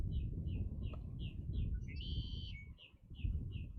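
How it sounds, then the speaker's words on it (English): Red-winged blackbird calling in Florida wetlands, a repeated series of short, high chirps at a steady rhythm over loud low outdoor rumble, with one longer buzzy trill partway through, moderately near. "I hear the red wing blackbird in there now too."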